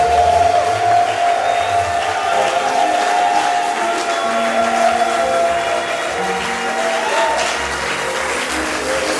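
A church congregation claps and acclaims at a French-language worship service, a dense, steady wash of applause and crowd noise with sustained organ or keyboard tones underneath, lively and continuous throughout.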